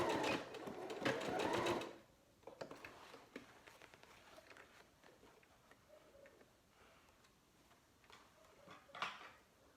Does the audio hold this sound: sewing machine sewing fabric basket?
yes